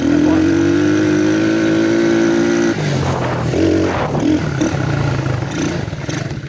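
A Tao Motors Forte 125cc quad bike being ridden, its engine droning steadily at first, then clattering and rumbling over uneven ground while someone talks over it.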